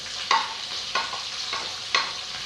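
Thai herb curry paste of dried chilli, garlic and shallot stir-fries in oil for a crispy fried bamboo-worm dish, a steady sizzle punctuated by three distinct scraping strokes of a spatula against the pan.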